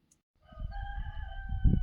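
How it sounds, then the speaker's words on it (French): A rooster crows once at daybreak in a palm grove at Tafraout, Morocco, a long harmonic call held steady over low rumbling background noise, with a brief louder knock near the end. "le coq nous dit bonjour"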